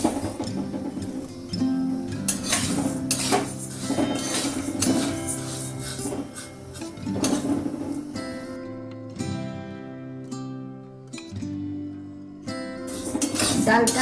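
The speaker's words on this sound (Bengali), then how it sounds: "এই ডালটাকে আমি ভেজে নেব।" Moong dal dry-roasted in a kadai over a gas flame, a spoon scraping and clinking against the metal pan in repeated close strokes, with brief quieter gaps.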